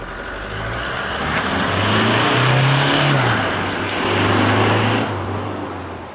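Exhaust note of a Toyota Hilux GUN125 on its stock muffler at medium speed: a loud, continuous engine hum that swells twice as revs rise and ease off, with no voices.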